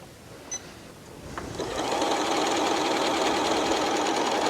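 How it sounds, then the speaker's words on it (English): A Janome Horizon 9400/9450 sewing machine starts up and runs fast, stitching out a custom stitch sequence on stabilizer with a dense steady mechanical whir that builds after a short quiet start, close and continuous. "I'm going to stitch that out on the white side, on my stabilizer side"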